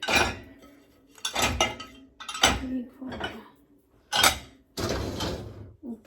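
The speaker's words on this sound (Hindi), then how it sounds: "ऊपर वाले में भी जो चीज़ें ऊपर नहीं है वो भी रख के गिलास वगैरह सारा कुछ फिल कर देते हैं।" Dishes, glasses and cutlery clink and clatter in sharp bursts as a dishwasher is loaded in a home kitchen, with quieter pauses between the knocks.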